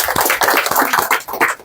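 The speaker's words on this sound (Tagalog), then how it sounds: "Palakpak!" A small group claps by hand at a training course session in the Philippines, a brief burst of loud, close, uneven claps.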